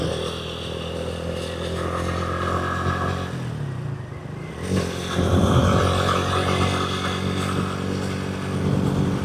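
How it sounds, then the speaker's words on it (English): A small 150cc Chinese motorcycle with freshly changed oil hums steadily while being ridden on a warm day, the engine note dipping briefly midway before picking back up, close and fairly loud. "Just changed the oil in the bike. Thought I'd take it out for a spin."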